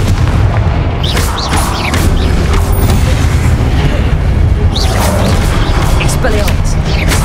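Confringo blasting spells explode during combat in Hogwarts Legacy, a series of loud booming bursts and sharp cracks over a dense rumble, with battle voices and shouts mixed in.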